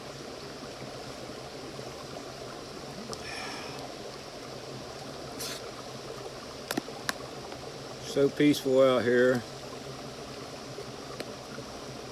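A creek flows around a campsite in a steady, broadband rush of running water that fills the whole scene, with someone speaking briefly over it and a few small clicks and knocks nearby.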